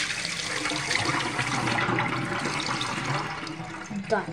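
A plate washed under a running kitchen tap, with a steady, fairly loud stream of water splashing and hissing throughout and small shifts as the dish moves under the flow.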